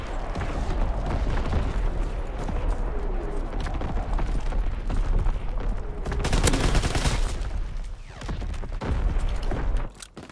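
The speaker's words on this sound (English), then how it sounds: "Incoming enemy artillery." Enemy artillery bombardment in Call of Duty WWII, a dense barrage of booming blasts and rattling gunfire filling the whole stretch, with a heavier burst of explosions near the middle, loud and continuous.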